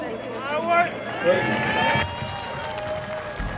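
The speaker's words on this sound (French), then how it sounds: "Aux camarades, on applaudit bien fort." Crowd applauding at a street demonstration against racism and fascism in Lyon, a brief burst of clapping and cheering mixed with a voice over a loudspeaker.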